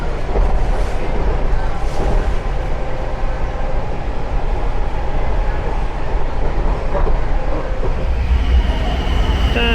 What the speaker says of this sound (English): And another one comes in.